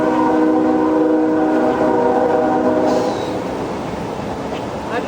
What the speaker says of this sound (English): I love that train sound.